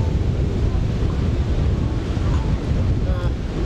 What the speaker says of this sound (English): The wind's quite strong, so I'm not gonna throw a big bait